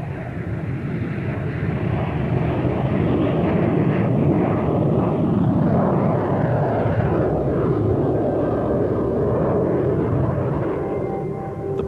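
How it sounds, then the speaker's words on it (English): An ER-2 high-altitude plane with long glider-like wings takes off and climbs steeply, a loud sustained jet roar that swells and holds throughout before easing slightly at the end. "Once the ER-2 leaves the ground, it climbs at an angle of 60 degrees."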